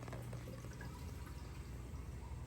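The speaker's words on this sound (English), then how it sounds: "here's that Magtool running" A homemade Magtool protein skimmer runs in a 75-gallon aquarium sump on RODI water, giving a faint, steady watery churn and bubbling hiss with no breaks.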